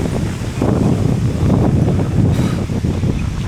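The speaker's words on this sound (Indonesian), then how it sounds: "Hujan angin nih" Steady gusting wind roars across the microphone during a long, steep mountain bike ride in Japan, with rain implied, a dense continuous rush with no speech.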